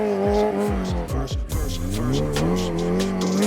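A loud, close Kawasaki H2R motorcycle engine revs hard on a motocross track as the rear wheel spins and squeals, its pitch swooping up and down in quick bursts.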